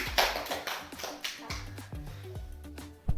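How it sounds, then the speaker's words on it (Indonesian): A classroom of young pupils clapping their hands in a loose, uneven burst of separate claps, fairly close and moderately loud, with children's voices chattering under it. "Tepuk tangan."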